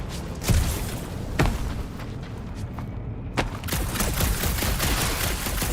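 Guns fire in the Guardians of the Galaxy video game: a few sharp individual shots ring out over a busy background, followed by a denser spell of rapid shooting.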